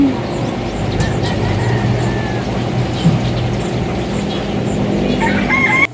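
Chickens cluck steadily close by over a dense, continuous background hum, with a rooster's crow faintly rising in the mix.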